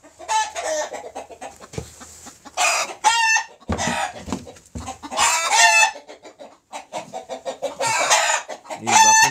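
Hens cluck and squawk in repeated bursts close by in a backyard egg-laying flock, with a few rooster-like crowing calls mixed in and short pauses between the outbursts.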